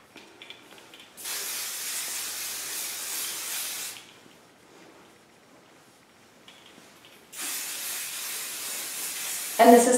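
Kenra medium hold removable touchable styling hairspray number 13, with shine spray in it, is sprayed onto hair in two long, close, steady hissing bursts separated by a quiet pause.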